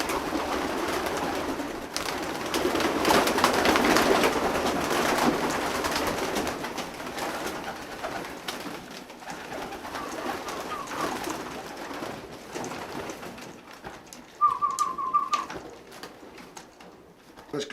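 Soft pigeon coos murmur in a racing pigeon loft under a rustling background, with a brief high electronic beep near the end.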